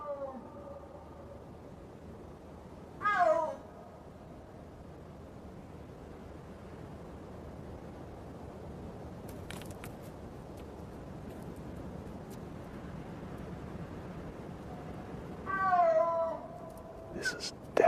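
Two big cats trade long, drawn-out calls while courting, one at the start and another near the end, rising and falling and carrying over quiet wind in an open mountain setting.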